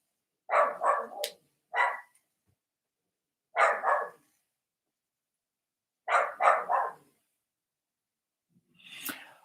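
Puppies indoors bark at a passerby outside the house: clustered pairs and triplets of sharp, close barks separated by short silences, ending with a fainter rough bark.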